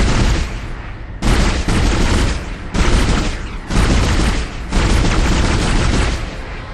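Loud, heavy gunfire blasting at an enemy in the survival horror game Dead Space, several long sustained bursts separated by brief gaps, booming and close.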